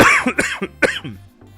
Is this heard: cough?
yes